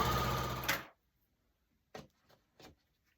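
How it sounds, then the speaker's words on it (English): A sewing machine joins scrappy pumpkin quilt blocks in one steady burst of stitching that stops abruptly, followed by a few soft handling clicks and taps nearby. "I'll go ahead and sew these blocks together"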